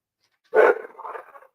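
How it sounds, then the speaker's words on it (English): A single dog bark, loud and close, followed by a shorter trailing grumbling yelp fading out within a second against a silent background. "My dog is like freaking out."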